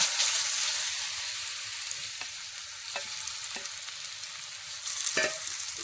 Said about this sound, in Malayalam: വെളിച്ചെണ്ണ ചൂടാകുമ്പോൾ അതിലേക്ക് കട്ട് ചെയ്ത് വെച്ചിരിക്കുന്ന പഴം ചേർത്ത് കൊടുക്കാം